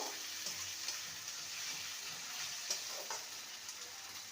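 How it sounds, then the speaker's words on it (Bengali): Chopped tomato fries in a pan with onions already browned golden, giving a steady, close sizzle with faint stirring scrapes underneath and no talking. "টমেটোটাকেও ভালো করে নেড়ে নেব"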